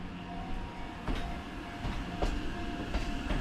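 A train runs close past the camera near Kawaguchiko station at the foot of Mt. Fuji, its wheels giving steady rhythmic clacks over rail joints beneath a continuous rumble, with no talk.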